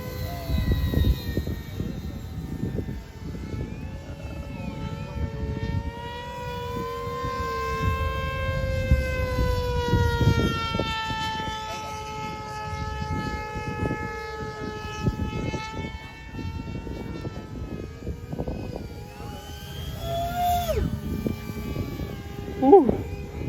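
A radio-controlled model airplane, a simple stick-style design, flies overhead at an outdoor fly-in event, its thin motor whine rising and shifting in pitch as it passes, with people cheering and talking nearby.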